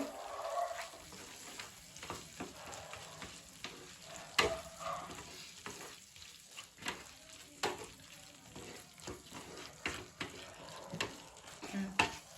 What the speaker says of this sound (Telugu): ఇప్పుడు ఇది మంచిగా కలిసే విధంగా కలిపేసుకొని